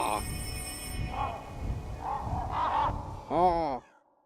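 Crows caw in the horror video game Rise of Insanity, a few harsh calls spaced across the clip with a louder, longer cry near the end, set over a low game ambience.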